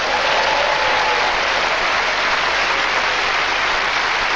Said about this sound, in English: Round of applause for Josephine.